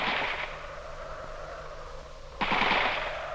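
Gunfire during an ambush on Chinese trucks in Tibet: rapid rattling bursts of shots, dense and steady, with a sharper, louder burst near the end, heard through a noisy, dated recording.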